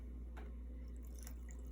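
Water poured from a cup into about four tablespoons of dish soap in a shallow dish, giving a faint, brief liquid splash and dribble against a low steady background hum.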